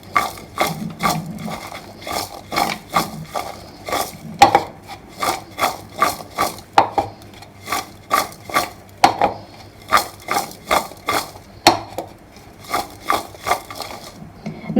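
Taro (arvi) pieces are stirred with salt in a metal pot, giving a steady run of close, sharp scraping clinks in an even rhythm with no voice.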